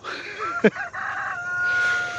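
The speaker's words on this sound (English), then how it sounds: "We're down to one rooster now, by the way." A rooster crows nearby in a drawn-out, rising and falling call, briefly broken by a sharp knock, with no talking.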